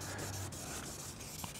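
Steady rubbing of a hand polish over scratched paintwork on a BMW E46 318Ci, a continuous close swishing friction with no pauses and no talk.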